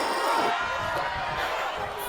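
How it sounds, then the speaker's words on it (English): Wrestling-show crowd at the Guv'nor's Underground tournament roaring steadily and wildly from start to finish, a dense, continuous wash of cheering with no distinct single voices standing out. "And the crowd goes wild."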